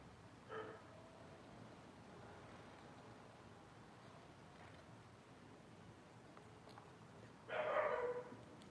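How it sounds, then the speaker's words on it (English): A dog barks in two short bursts, one near the start and a louder run near the end, with quiet room tone in between. "That's my dog barking."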